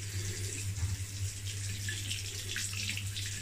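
A tap runs steadily into a sink while someone rinses after shaving, a close, continuous splashing rush of water over a low hum, with no one talking.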